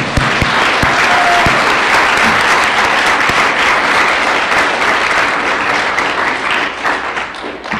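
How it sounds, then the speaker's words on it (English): Dense, steady applause from an audience at an awards ceremony fills the room for about eight seconds, a constant wash of many hands clapping at close to moderate distance with a few louder individual claps standing out. "So let's give them a round of applause."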